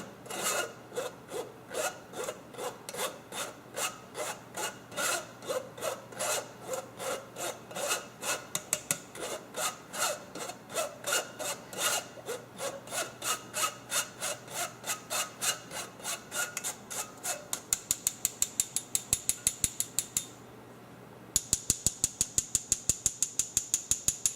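Macaroon flour mixture worked through a hand sifter gives a rapid rhythmic scraping rasp, steady strokes close by for a long stretch, then a brief pause before sharper, quicker strokes resume.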